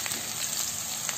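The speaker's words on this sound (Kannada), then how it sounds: "ಈಗ ಜಜ್ಜಿಟ್ಕೊಂಡಂತ ಬೆಳ್ಳುಳ್ಳಿನ ಕೂಡ ಹಾಕ್ತಾ ಇದ್ದೀನಿ" Crushed garlic fries in hot oil in a pan, giving a brief, steady crackling sizzle close up with no voices.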